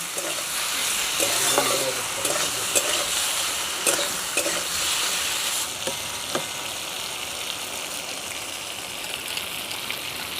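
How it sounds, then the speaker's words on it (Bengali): Spices, grated ginger paste, slit green chillies, salt, turmeric and sugar sizzling in a pan for moong dal, with a spoon scraping and stirring in occasional knocks over a constant hiss, no talking. "আবার ভালো করে একটু নাড়াচাড়া করে নেব।"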